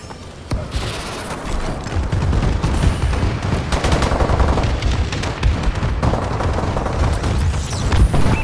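Dense battlefield sounds from Call of Duty: Advanced Warfare: a friendly bombing run drops heavy booming explosions amid rapid bursts of automatic gunfire, loud and continuous throughout.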